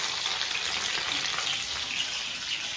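Garlic, cumin and mustard seeds frying in hot oil, giving a dense, continuous close sizzle with faint crackles and no talking.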